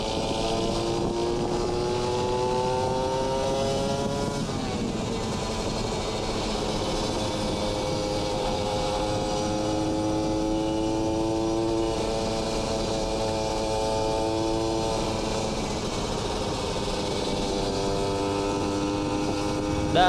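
Kawasaki Ninja RR two-stroke motorcycle with a Racing R9 Neo Mugello carbon exhaust, revving loudly and continuously close by, its buzzing tone rising and falling through repeated throttle sweeps.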